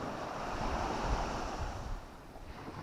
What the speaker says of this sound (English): Wind is blowing west.